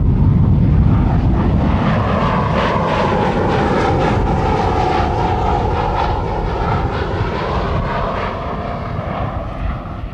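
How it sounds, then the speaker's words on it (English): A 1996 Chevrolet C5 Corvette held at wide open throttle above 170 mph on a hot desert proving ground, heard as a loud, continuous high-speed engine roar and rush with a slowly shifting pitch, steady throughout with no talking. "One of the other high-performance tests that we run is one tank of gas at wide open throttle"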